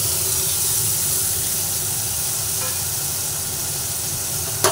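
Grated tomato hits hot oil in a pan and fries with a loud, constant hiss and sizzle, ending in a short clatter at the close.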